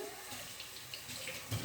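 A kitchen tap runs steadily into the sink for a quick rinse, a brief, faint, even hiss of flowing water heard close by.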